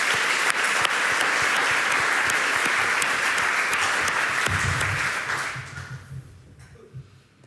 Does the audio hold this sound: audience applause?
yes